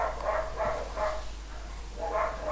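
Dogs bark outside, picked up by a room microphone; several muffled, mid-distance barks come in a loose rhythm over a steady low hum.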